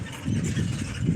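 A vehicle going by on a rural Indian road between Chhatauna and Chanda Bazaar, its steady mid-range engine drone held close and fairly loud through the whole short moment, with no voices over it.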